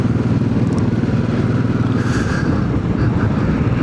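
A Royal Enfield Classic 500 motorcycle engine runs up close with a loud, steady, thumping idle and no speech.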